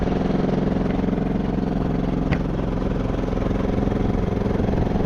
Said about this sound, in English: I'm not gonna rev the motor just to keep it a little quiet for you guys at home.